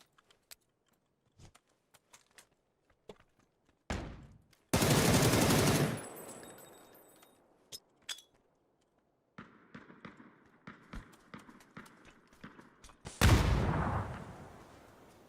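Bursts of gunfire in PUBG, with rapid automatic volleys and scattered single shots, loud and close, some trailing into a ringing echo.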